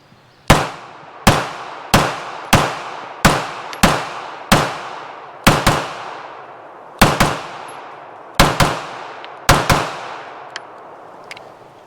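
A Springfield Prodigy 1911SR pistol fired through a full magazine outdoors: about fourteen sharp, loud shots with short echoing tails, in a fairly even cadence with a few brief pauses.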